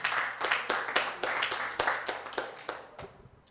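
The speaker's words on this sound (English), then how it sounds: "So let's have one more round of applause for Neil for taking us through the tutorial," A small audience applauding after a tutorial talk, a few sparse hands clapping in a loose rhythm, close and distinct, fading out toward the end with no speech over it.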